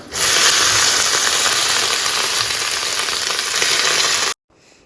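Loud, constant sizzling of cut eggplant frying in a hot pan, close up, ending abruptly.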